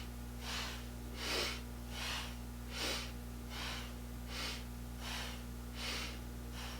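Slow, steady yoga breathing during a Kundalini session: about eight soft, even inhale-exhale cycles, each a close breathy whoosh, over a constant low electrical hum.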